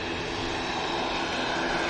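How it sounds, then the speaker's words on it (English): An airliner in a striking green livery taxis out at Manchester Airport, a steady broadband engine roar at moderate distance that holds evenly throughout with no talk over it. "And here is the stunning"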